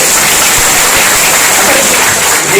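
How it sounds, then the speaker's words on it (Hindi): Audience applause in a packed hall at a youth motivational talk, a loud continuous wash of many hands clapping close by, with no voices over it. "तो एक बार तालियां इनके लिए होनी चाहिए।"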